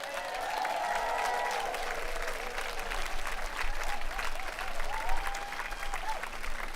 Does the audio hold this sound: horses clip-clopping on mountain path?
no